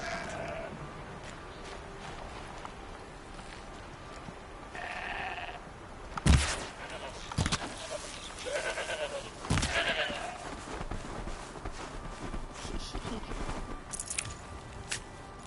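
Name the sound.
goat bleating in video game Horizon Zero Dawn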